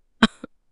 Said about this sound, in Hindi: ये कैसी खांसी?